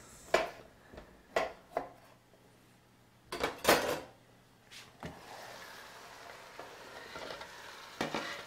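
Sliced courgettes stir-fried in a pan with pork, a series of distinct scraping and tossing strokes against the pan over a low, steady sizzle, with a busy cluster of stirring midway.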